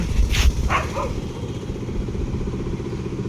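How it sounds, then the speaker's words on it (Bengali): Street dogs bark near a railway crossing road, giving two or three sharp, fairly close barks in the first second over steady traffic and motorcycle rumble. "এই কুকুর দেখে তো ভাই আমার ভয় লাগছে"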